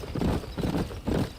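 A horse's hooves clop in a quick, rhythmic gait while ridden in the Red Dead Redemption video game, three close, soft thudding beats.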